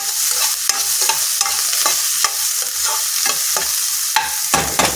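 Onions fry in a pan under a rapid run of stirring scrapes, each stroke clicking and rasping against the pan over a constant loud sizzle, close and without any talk.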